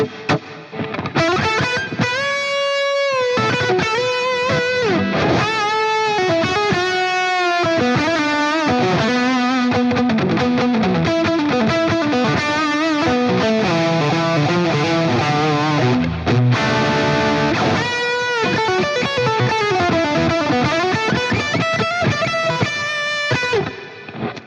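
Electric guitar played through a Royal 45 amp capture with a Boss SD1 overdrive and reverb, with sustained driven chords and melodic lead lines ringing continuously at a steady, full level with no talking.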